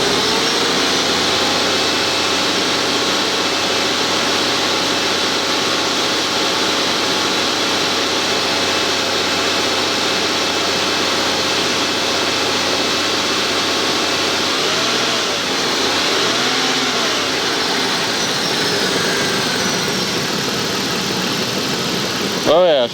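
A 1995 Oldsmobile 3800 engine runs continuously and loudly, close up, with a steady drone and a brief rise and fall in revs late on, as someone talks over it.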